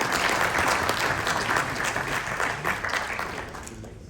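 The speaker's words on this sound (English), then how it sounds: "Round of applause." A conference audience applauds a Zambian minister at a skills event with a full, even burst of clapping that slowly thins and fades toward the end.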